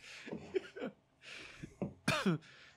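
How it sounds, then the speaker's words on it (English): A couple of short, harsh coughs up close, with throat-clearing noises between them and no speech. "A little cough there, too."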